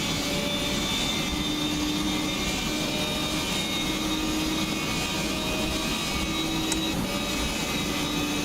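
A race car engine in the rFactor 2 racing game revs very high, around 10,000 RPM, holding a loud, continuous whine with steady tonal harmonics and no breaks or voices.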